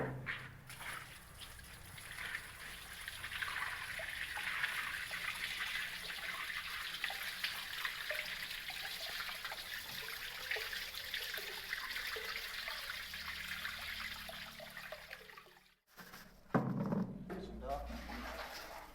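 Murky water from soaked ketapang leaves being poured out, a continuous close splashing, trickling flow over most of the stretch, then a brief break followed by a few handling knocks and splashes.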